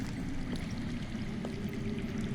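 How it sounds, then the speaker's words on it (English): Steady underground water rushing and trickling in a Game of Thrones adventure game scene, a constant low wash filling the background with no talk over it. "That's water. I hear water. From underground."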